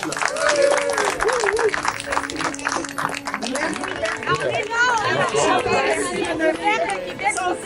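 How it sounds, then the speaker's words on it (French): Outdoor crowd at a peaceful justice march claps and cheers amid lively chatter, scattered clapping mixed with many voices and shouts nearby. "Il faut applaudir Nathalie qui est avec nous ici."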